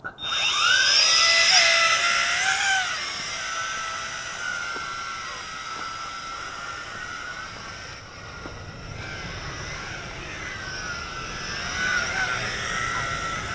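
Tarantula X6 quadcopter drone in flight, its motors giving a high, whining buzz that rises and falls in pitch as it maneuvers, loud and continuous throughout.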